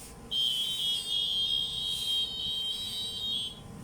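A steady high-pitched electronic whine from a PIP 3D metal detector on analog setting, sounding over a target, holds continuously for several seconds, loud and unbroken over faint background noise.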